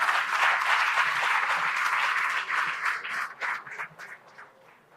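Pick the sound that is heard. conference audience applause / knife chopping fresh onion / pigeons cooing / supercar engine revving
conference audience applause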